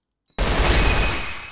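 Video game gunfire, in a tactical shooter round, bursts in suddenly after near silence as one loud continuous volley of rapid shots that holds for over a second and then eases slightly, no voices.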